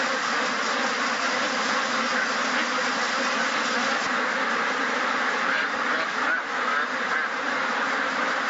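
Many ducks quack in a crowded intensive farm shed. The dense, continuous, loud din of the flock fills the whole stretch, with no voices.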